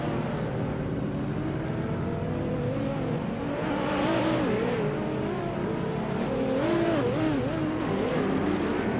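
An Aston Martin Zagato VLN race car in a racing game roars steadily, its engine note rising and falling through gear changes and revs, loud and continuous with faint tire noise.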